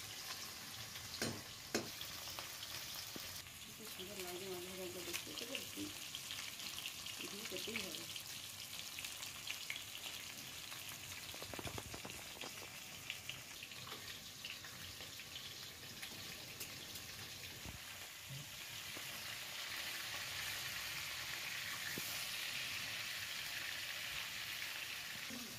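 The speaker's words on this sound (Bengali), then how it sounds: "আমার এবারে মাছটা ভাজতে শুরু করছি।" Pieces of rohu fish frying in mustard oil in a wok, giving a steady close sizzle that runs throughout, broken by occasional clinks and stirring noises.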